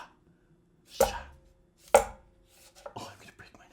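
Two sharp, separate knife chops through cantaloupe and lemon drop melon land on a board about a second apart, followed by a softer, rougher cluster of cutting sounds.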